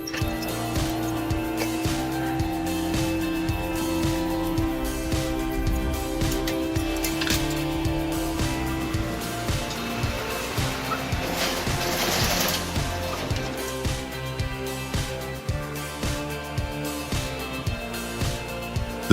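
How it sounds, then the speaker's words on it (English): A 3-Tech Bravo 280 single-shaft industrial shredder grinds waste steadily, a dense loud mechanical churn with rhythmic clanking and ratcheting pulses running continuously throughout. "The 3-Tech Bravo 280 is a high-performance industrial shredder built for maximum efficiency in waste processing."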